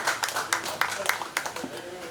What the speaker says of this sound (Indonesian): kita berikan tepuk tangan sekali lagi untuk narasumber dan moderator kita